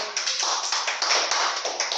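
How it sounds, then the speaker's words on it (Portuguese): Church congregation clapping hands in steady rhythm, many claps blending into a continuous, loud, close patter with no voices. "Bata as suas palmas para Jesus."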